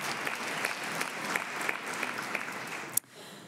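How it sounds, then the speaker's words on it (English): Audience applause for the sponsors at a lunch during a mayors' national summit on racial inclusion, a steady dense clapping from a large room that stops abruptly near the end, leaving quiet room tone. "perhaps one more round of applause to the sponsors for this great lunch that"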